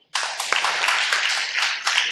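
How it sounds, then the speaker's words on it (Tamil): A church audience at a Tamil Christian sermon claps together, a dense, steady burst of many hands starting abruptly and holding at full strength throughout. "எல்லாம் உங்களுக்கு ஒரு கைத்தட்டலாமா?"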